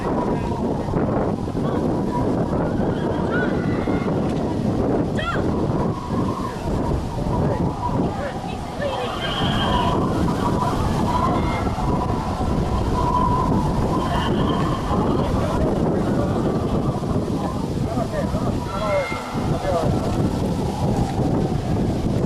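Strong wind in Tombstone, Arizona buffets the microphone with a constant roaring rumble, loud and unbroken throughout.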